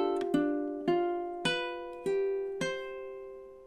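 Ukulele fingerpicked slowly in a Hawaiian song, six clear plucked notes ringing out one after another at an even pace, soft and close with each note decaying before the next.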